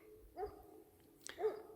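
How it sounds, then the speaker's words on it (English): A dog barks and whimpers a couple of times indoors, faint and a little distant, with no one talking. "Oh, my dog's barking."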